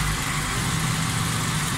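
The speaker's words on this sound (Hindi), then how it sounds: "गाड़ी स्टार्ट है, बिल्कुल एक्यूरेट है, परफेक्ट है।" A Suzuki Alto 1000cc car running on CNG, with a pickup fault, idles just after starting: a steady, close, low engine hum with a constant rumbling pulse and no voices.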